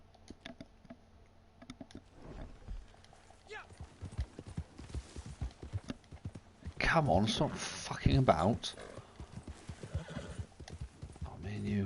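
Horse in Red Dead Online galloping with rapid clip-clop hoofbeats, then letting out a loud whinny midway, close up, with a voice talking over it.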